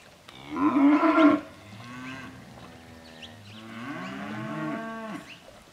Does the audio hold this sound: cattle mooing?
yes